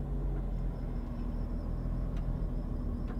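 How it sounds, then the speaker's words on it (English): A car in Mafia 3 drives with a steady low engine rumble and road noise, continuous and fairly close, with no speech over it. "That's the car down there that Lou was talking about."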